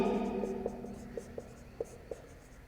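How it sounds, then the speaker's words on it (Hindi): During a physics lesson on atomic physics, a pen or marker writes on a board with short taps and squeaks in an irregular rhythm, set against a faint steady hum. "तो यहां लिखेंगे"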